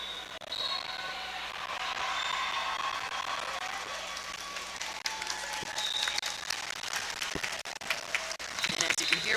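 Roller derby tournament crowd applauding an injured referee as they are helped off the track, with sustained clapping throughout alongside clicking and rattling.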